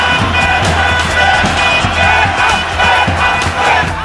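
Ultras supporters chanting in protest against the Nahda project, a loud, dense crowd roar with rhythmic shouted chant pulses throughout, close and sustained with no clear speech.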